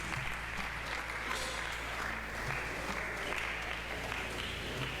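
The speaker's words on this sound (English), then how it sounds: "Please clap for him as he comes to the stage." An audience at the TechFlock'22 tech event in Umuahia claps steadily for a speaker coming to the stage, a dense, even wash of applause heard from a distance at low level, with no talking.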